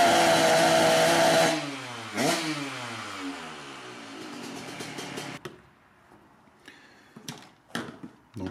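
A Yamaha DT 50 motorcycle with a swapped-in 125 YZ engine revs hard, holds high, then the revs drop and it falls back to a rough idle with a few sharp blips near the end.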